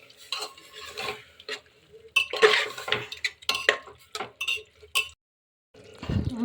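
Meat being stirred into cooked spices in a metal pot, with repeated scraping and clinking of a spoon against the pot in irregular bursts, close up and fairly loud, with a short pause near the end.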